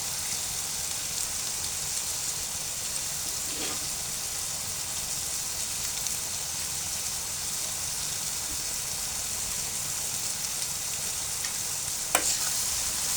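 Noodles with their seasoning mix fry in a pan, a steady soft sizzle and crackle running throughout with occasional scraping stir clicks, close and moderately quiet, no talking.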